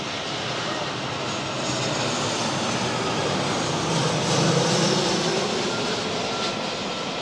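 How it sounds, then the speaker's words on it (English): Boeing 757 jet arriving at Manchester Airport, a continuous loud engine roar that swells slightly as it passes close, with voices underneath. "757 pulling in behind this lot"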